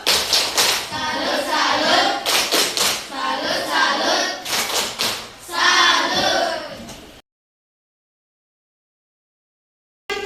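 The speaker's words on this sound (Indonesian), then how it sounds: "Tepuk salut dulu untuk Jonathan. Tepuk salut." Young children do a rhythmic salute clap for a boy named Jonathan in a classroom, bursts of close, sharp hand claps repeating over about seven seconds, mixed with children's voices, then silence.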